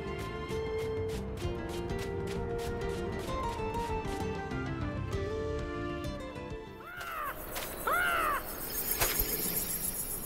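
A large bird caws twice in the desert near Nanohana in the One Piece Odyssey video game, sharp calls rising over dense game music and effects late in the scene.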